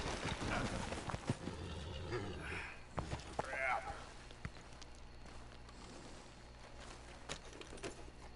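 A horse in Red Dead Redemption 2 clip-clops at a gallop, hooves thudding rhythmically with a brief whinny partway through, heard alongside voices talking over the game.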